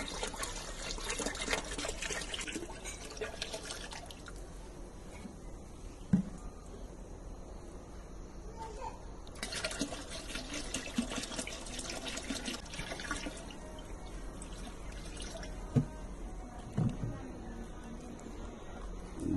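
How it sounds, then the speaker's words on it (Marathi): Cow urine is poured into a drum holding about 180 litres of water, a faint, steady trickle with a few soft splashes, heard alongside intermittent talk. "हे आपण गोमूत्र टाकतोय बघा"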